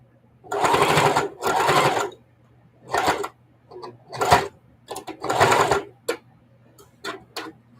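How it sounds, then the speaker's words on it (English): A sewing machine stitches through about eight layers of fabric at a folded mitered quilt corner, running in several loud bursts of one to two seconds. Short pauses and lighter clicks fall between the bursts. "I'm sewing over like 8 different thicknesses over here in this corner"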